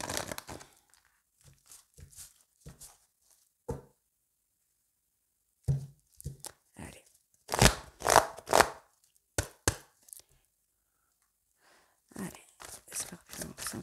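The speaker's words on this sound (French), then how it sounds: "je fais une petite coupe et ensuite, je vais aller chercher une seule carte par tas" Oracle cards being cut and drawn from several piles make a run of brisk papery slaps, shuffles and crinkles, close and fairly loud, in bursts separated by brief pauses.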